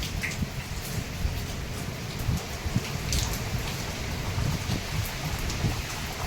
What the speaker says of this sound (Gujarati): વરસાદ ને પવન ને બધું ભેગું છે